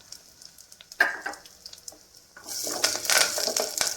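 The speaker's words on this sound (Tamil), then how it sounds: "கருவேப்பிலை போட்டலாம் அடுத்து வெங்காயத்தை போட்டலாம்" Onions and curry leaves drop into hot oil for a banana-flower kuzhambu, giving a sharp burst of sizzling that settles, then swells into a louder, steady crackling fry with stirring scrapes, close up and with no talk.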